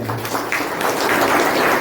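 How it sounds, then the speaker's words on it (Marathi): An audience at a Maratha community student award ceremony bursts into dense, steady applause, loud and close, with no talk over it. "जोरदार गावडे साहेबांसाठी टाळ्या होत्या"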